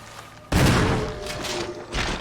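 Gunfire in the Resident Evil 1 Remake video game: a sharp, heavy shot bursts in at once and rings out, followed by another blast near the end, loud and close with no talking.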